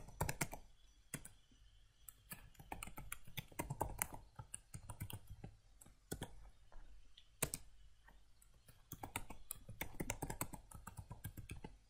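Quiet, uneven typing on a computer keyboard as a username and password are entered, with scattered sharper key clicks and short pauses between bursts.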